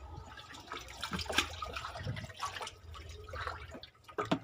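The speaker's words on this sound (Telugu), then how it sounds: "ఇప్పుడు ఈ నీళ్లు మొక్కలకి ఇస్తున్నామండి." Jeevamrutham liquid, a fermented plant tonic diluted from a 20-litre bucket, is poured onto garden plants with an uneven, splashing, gurgling trickle, close by and with no talking.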